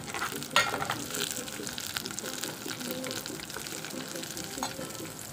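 Green chilies and onions hit hot oil already holding chana dal, curry leaves and red chilies for a potato fry, crackling in a steady close sizzle with stirring scrapes and a sharp clack near the start.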